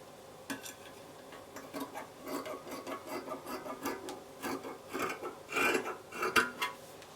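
Fabric being cut out for a simple slanted-neck dress, heard as quiet, close, rhythmic rasping snips of scissors through cloth, repeating steadily and growing slightly sharper toward the end.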